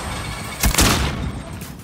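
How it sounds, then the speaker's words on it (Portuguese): A grenade is thrown and explodes in Call of Duty: Modern Warfare, one sharp, loud blast followed by a second burst and a rumbling tail that fades over a second, with no talk. "Lançando uma granada."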